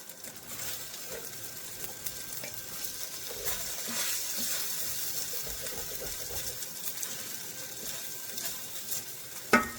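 Gnocchi and minced garlic frying in a pan, a steady close sizzle with scraping stir sounds throughout and a sharp clatter at the very end.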